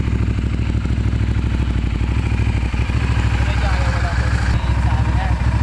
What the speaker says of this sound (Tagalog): malakas ang makina ng cruiser bike na ito